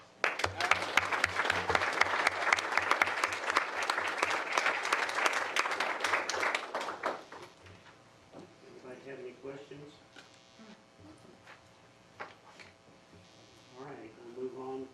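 Applause from attendees at a regular board meeting, a dense burst of clapping for about seven seconds that stops abruptly, followed by quieter room sound and speech.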